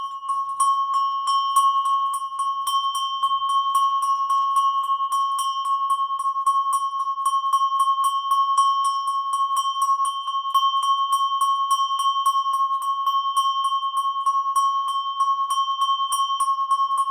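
A bell rings steadily and quickly, again and again, with a bright clear tone and shimmering overtones, loud and alone with no voices for the full stretch.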